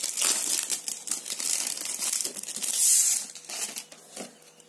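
The plastic packaging around a Craft O' Clock chipboard sheet is opened by hand, giving close, loud crinkling and tearing that comes in bursts and then fades, with no voices.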